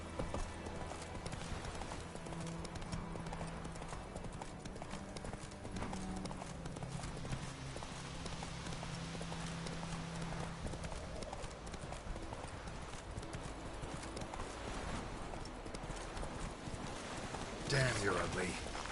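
Game horse Roach trotting in The Witcher 3: Wild Hunt, a steady rhythmic clip-clop of hooves running throughout at low level, with a voice speaking over it.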